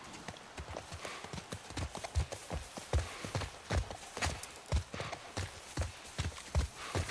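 Rhythmic horse hooves clip-clop steadily at a walking-to-trotting pace while riding in The Last of Us, close and clear with faint background game ambience.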